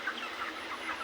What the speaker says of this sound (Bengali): 1950 পিস মুরগি তোলা হয়েছে এই পুকুরে